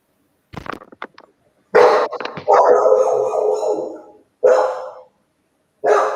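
A dog barks close by in several loud bursts, one drawn out into a longer howling yowl, with short silences between.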